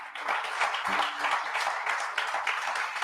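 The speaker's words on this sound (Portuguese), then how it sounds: "Dê um aplauso a Jesus" A church congregation applauds during a sermon, a dense spread of clapping at moderate distance lasting the whole span, with faint voices mixed in.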